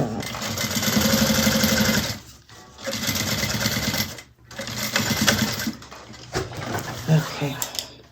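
Sewing machine top stitching a Scottie Convertible bag: runs of rapid mechanical stitching buzz loud and close, pausing briefly between bursts, then fainter handling sounds at the end.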